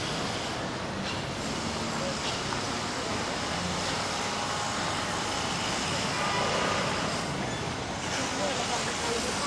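Busy street in Batumi, Georgia, with a constant dense wash of passing traffic and crowd noise heard up close, and a voice speaking over it.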